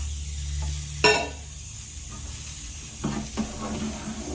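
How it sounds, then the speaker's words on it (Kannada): Kadale Kalu sambar masala being stirred and mixed in a pan, a soft sizzle with a sharp clank near the start and a few scraping strokes later, close and moderate. "ಅದನ್ನು ಮಿಕ್ಸ್ ಮಾಡ್ಕೋಬೇಕು."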